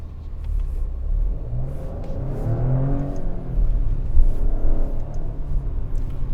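A 2024 Maserati Grecale Trofeo engine in comfort mode gives a steady, subdued rumble and whir, rising gently as the car accelerates, with no talk over it.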